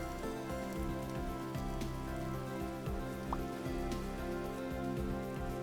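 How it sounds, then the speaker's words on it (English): Steady rain falling in the survival video game Vintage Story, a dense even patter of drops on surfaces that continues throughout with no talk. "And the rain is stopping."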